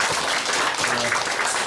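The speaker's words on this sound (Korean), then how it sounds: "하나님께 우리 영광의 박수 올려드립니다" A church congregation at a Sunday morning service applauds together, a short burst of dense, even clapping filling the room at moderate loudness.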